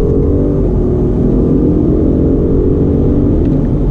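A 2019 BMW M850i under throttle in third gear, heard from inside the cabin as a loud, steady engine rumble and whirring drone that holds throughout.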